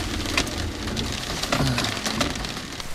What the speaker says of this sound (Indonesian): Terus gerimis-gerimis gini lagi.